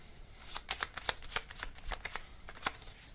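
Tarot message cards shuffled in the hands, a quick run of soft papery riffles and flicks at close range, with no talking.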